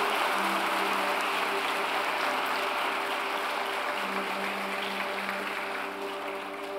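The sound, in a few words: church congregation applauding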